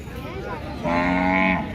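A cow lets out a loud, drawn-out moo close by at a cattle market, over a low hum of background noise and faint murmuring.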